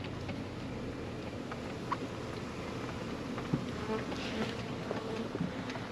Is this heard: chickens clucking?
no